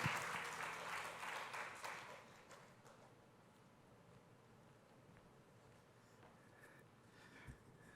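A church congregation at a young adults' worship service claps together in a burst of applause that is loudest in the first two seconds, then fades into quiet room ambience with a few scattered sounds.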